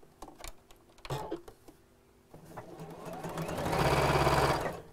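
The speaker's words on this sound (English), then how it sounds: "sew across the ends. So, quite a tight little hem there." A sewing machine stitches across the ends of a tight hem on a drawstring bag, its motor whirring in short runs that build to a loud, steady burst near the end, with no talk over it.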